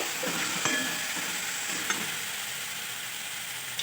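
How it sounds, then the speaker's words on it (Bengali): Fried cauliflower stirred into spice masala in a hot pan, giving a dense, steady close-up sizzle with a few faint scraping knocks and no voices. "এরপর এতে আমি দিয়ে দিচ্ছি ভেজে রাখা ফুলকপি। এটাকেও খুব ভালোভাবে আমি নেড়ে চেড়ে নেব।"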